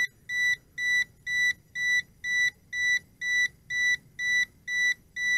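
A steady series of high electronic beeps from a JXD 506G quadcopter's remote-control transmitter, about two per second, each short and evenly spaced, sounding close and clear over a faint background hum.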